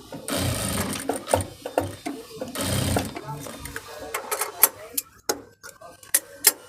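A sewing machine stitching elastic into fabric in two short runs of whirring, with brief clicks and handling taps between them and speech heard in between.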